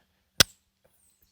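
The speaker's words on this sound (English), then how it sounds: "drive in the mag, it actually sent the slide home" One sharp metallic snap as the slide of a Sig Sauer P365 pistol slams home when a magazine is driven in, loud and close, followed by quiet and a faint small knock.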